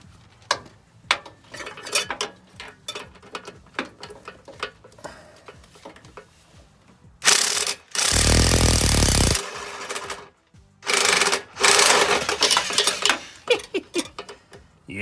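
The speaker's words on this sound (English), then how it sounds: "I'm using my big Cobalt impact, so hopefully that'll work." A big Cobalt impact wrench with a 15 mm swivel deep-well socket hammers at a stuck exhaust manifold bolt on a Chevy Silverado: two loud, sustained rattling bursts, the first about two seconds long, after scattered metallic clicks and tool handling.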